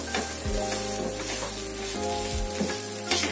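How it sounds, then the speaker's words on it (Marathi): An oats chilla fries in a pan over a medium gas flame, giving a steady close sizzle with faint scraping and a low hum of the burner beneath it, no one talking. "आता तीन ते चार मिनिटं अजून त्याला मिडियम गॅसवरती शिजवायचंय खरपूस होईपर्यंत"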